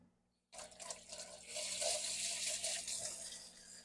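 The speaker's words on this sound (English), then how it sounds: "I'm going to pop my eggs into that strainer just to rinse them off" Tap water runs into a strainer to rinse eggs for a gluten-free Easter brunch, starting abruptly after a short silence and continuing as a steady close splashing stream.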